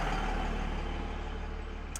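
A loud truck rumbles past nearby, its heavy low engine drone steady and dense across the whole stretch, fading slightly toward the end.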